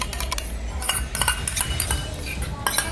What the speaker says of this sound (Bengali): দইটা ভালোভাবে ফাটিয়ে নিচ্ছে তবে এই দইটা কিন্তু ঘরে পাকানোর দই